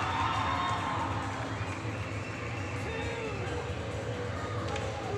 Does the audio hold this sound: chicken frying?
no